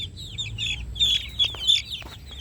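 Bulik rooster clucking up close, a quick series of short squawky clucks and chirps over a low background hum, no talk.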